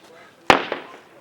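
An AK rifle firing during a firefight: one sharp, loud crack followed by a second quieter report about a quarter-second later, each trailing off in a short echoing decay.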